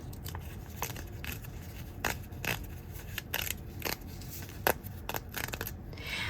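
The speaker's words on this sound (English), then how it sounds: "now I'll just tear away this paper here" Foundation paper is torn away from the seam allowance of a quilt block, with a series of short, crisp rips and papery rustles up close at low volume.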